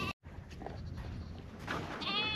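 A ewe bleats loudly and close by, calling over and over with her lamb in a barn during Canadian lambing season, with strained wavering cries running through most of the clip.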